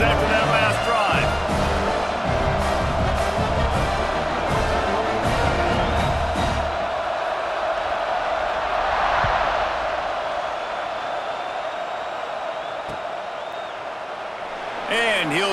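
Stadium crowd in EA Sports College Football 26 roars steadily after a touchdown drive, a broad continuous swell of cheering beneath game sounds and commentary-like talk at the start.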